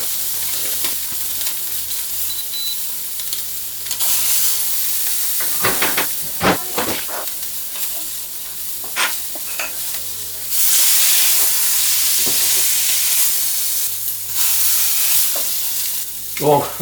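An ostrich fillet steak hits a hot frying pan with a loud, close sizzle, a bright hissing roar that swells and surges and continues with bursts of spitting and crackling throughout.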